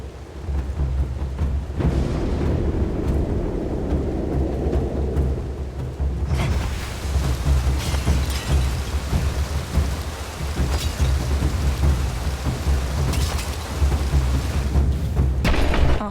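A thunderstorm in Hades 2: heavy continuous rain with rolling rumbles of thunder, growing louder and fuller partway through, with no voices.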